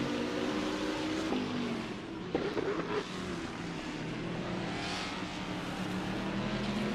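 Race cars in a video game, including a Toledo G2, engines droning steadily at speed in a pack with shifting revs and a brief louder surge, continuous throughout.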